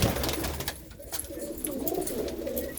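Golden, red-eyed pigeons coo in low, throaty rolls close by in a loft, with a steady background hum and a few sharp clicks.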